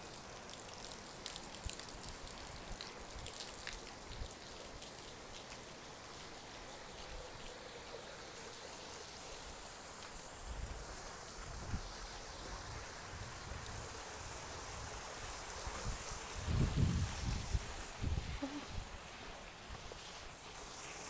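A small stream running past a koi pond along garden walkways at an environmental and heritage center, giving a steady broadband rush of flowing water with a brief louder surge near the end, heard alone with no talking.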